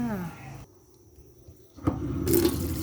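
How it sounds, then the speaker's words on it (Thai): Tap water gushing into a basin for washing wild mushrooms: someone speaks briefly, then after a quiet pause the water starts with a splash and runs as a steady, close rush. "เปิดน้ำใส่อ่างนะคะ"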